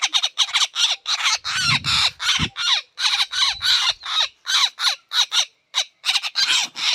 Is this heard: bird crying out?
yes